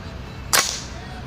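A single sharp air gun shot fired at a thimble target cracks out once, loud and close, its hiss trailing off briefly into a quiet background.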